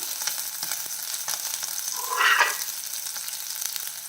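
Curry leaves dropped into hot oil while cooking chow chow, a steady background sizzle that bursts into a louder crackling spurt for a moment before settling back to an even hiss, no voices.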